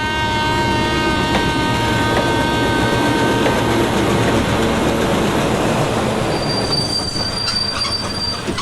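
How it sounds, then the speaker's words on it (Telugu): A departing train rumbles steadily along the tracks, wheels squealing with high metallic tones that sharpen near the end, loud and continuous. "పదరా, రైలు వెళ్ళిపోతుంది."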